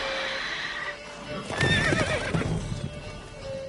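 Roach the horse from The Witcher 3 game gives a close, shrill whinny in the middle, amid clip-clopping hooves and a steady ambient background.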